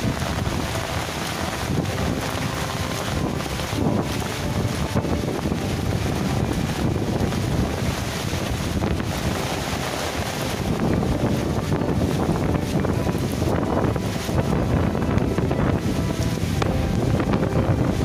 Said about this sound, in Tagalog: malalaki din ang alon sa tabi ng dagat